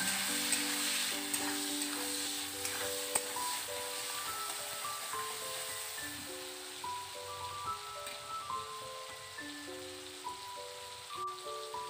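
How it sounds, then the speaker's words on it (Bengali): Salted tomatoes sizzle softly in a wok while being stirred, a steady low frying hiss that sits beneath louder melodic background music throughout. "নুনটাকে দিয়ে ভালো করে নাড়াচাড়া করে টমেটোটাকে নরম করে নেব প্রথমে"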